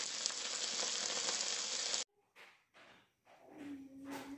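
Silkworm pupae fry in a pan with Kashmiri chilli, giving a steady bright sizzle for two seconds that cuts off abruptly, followed by a few quieter scrapes and rustles.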